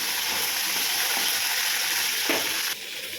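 Chillies, garlic, tamarind and cumin fry in hot oil for a tomato green chilli chutney, giving a steady close sizzle with a brief stirring scrape near the end as the hiss drops slightly.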